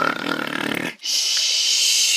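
A voice imitates a snoring dragon in a spoken story. One long, rasping inhaled snore is followed by a short gap and then a loud, breathy hiss blowing out. It is close and clear, with no other sound.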